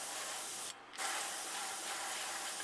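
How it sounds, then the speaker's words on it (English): Close airbrush spray painting a bluegill crankbait fishing lure, a steady soft hiss that breaks off briefly near the start, then resumes and continues evenly. "just lightly spray"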